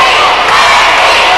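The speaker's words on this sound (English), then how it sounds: "The crowd starting a chant for Wendi" A wrestling crowd at a women's steel cage match between Wendi Richter and Heidi Lee Morgan roars loudly and continuously through a brief burst of crowd noise.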